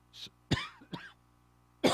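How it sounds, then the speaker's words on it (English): A few short, harsh coughs separated by brief pauses, fairly close and dry, with one heavier cough at the end. "Excuse me for coughing on the air"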